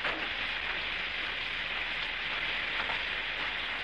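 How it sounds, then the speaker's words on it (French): Steady rain pours down outdoors, a dense, even wash of hiss that runs continuously without pause at a constant moderate level, with no voices over it. "Oh, cette foutue pluie."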